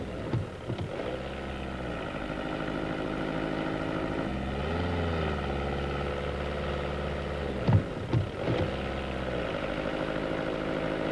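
A 1.9-liter diesel engine in a 1990s VW Golf 3 hums steadily, its pitch sweeping up and dropping back a few times as it accelerates and shifts gears, heard from inside the car.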